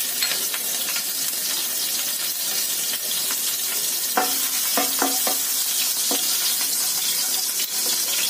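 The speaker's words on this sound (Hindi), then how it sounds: "मैंने देसी घी ले लिया है और इसमें डाल रही हूँ जीरा, ये 1 चम्मच करीब जीरा होगा, ये जीरा डाल देंगे।" Cumin seeds and green chilli sizzle and crackle in hot desi ghee in a pan, a steady close frying hiss with scattered sharp pops and spoon scrapes throughout.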